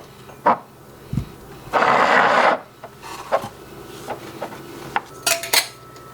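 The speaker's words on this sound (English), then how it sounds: "just gonna take my lids, center them on here, and finger tight them on" Metal canning lids set on glass jars and screwed down finger tight in a homestead kitchen: sharp, close metallic clinks and taps with one longer scraping, grinding twist partway through.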